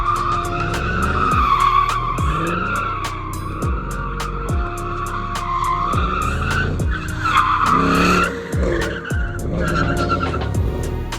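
Ford Mustang GT tires squeal loudly and continuously as the car slides around an empty parking lot, with a wavering high-pitched screech, repeated rhythmic tire chirps and engine noise close by, no talk.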